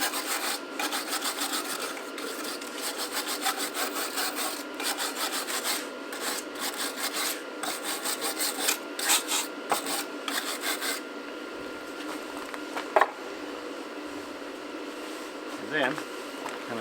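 A weld on a homemade horseshoe hat rack is cleaned up with steady abrasive rasping and grinding strokes, loud and continuous for about eleven seconds, then easing off to quieter scraping with a few light knocks.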